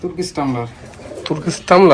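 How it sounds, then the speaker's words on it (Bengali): Large crossbred pigeons at a pigeon farm coo in low, rolling bursts close by, overlapping with someone talking. "কি সাইজ ভাই কবুতরের এটা কিন্তু দেশি কবুতর না"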